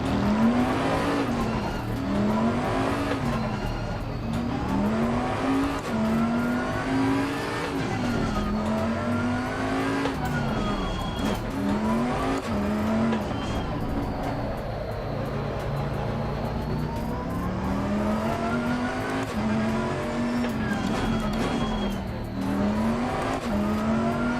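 A Bentley GTC races around the Hungaroring in Assetto Corsa, its engine note rising and falling in repeated upshifts and throttle swells, with occasional tyre squeal, loud and continuous.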